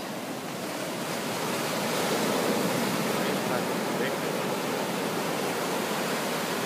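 Big ocean waves roll in as a loud, steady wash of surf building slightly and then holding, a broad continuous roar close by with no talk heard over it.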